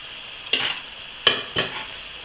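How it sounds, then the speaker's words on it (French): Sliced onion and garlic fry with lardons in a pot: a soft, steady sizzle broken by three distinct stirring scrapes and bursts of louder frying, fairly close and with no talking. "je vais rajouter mon oignon que j'ai émincé. Et je vais également rajouter mes 2 gousses d'ail"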